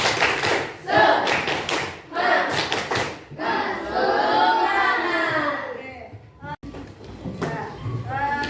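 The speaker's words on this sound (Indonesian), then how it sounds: "Coba kita tepuk semangat dulu sebelum kita mulai." Students in a combined-grade primary classroom do a rhythmic spirit clap, bursts of patterned group clapping interleaved with children chanting and talking, fairly close and loud.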